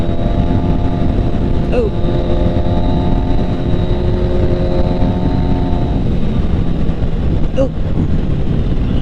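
Riding a bike outdoors: a steady, loud engine-like drone with heavy wind buffeting on the microphone the whole time, broken only by a couple of brief exclaimed sounds from the rider.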